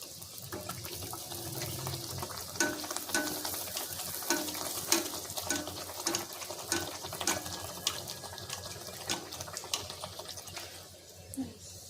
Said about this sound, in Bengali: এইভাবে সব কচুরিগুলো আমি ভেজে নেব।